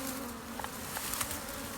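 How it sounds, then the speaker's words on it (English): Africanized honey bees drone steadily around a hive in a hollow log in a suburban area, a faint continuous buzz with a few louder passes of single bees close by. "see the bees are in a log"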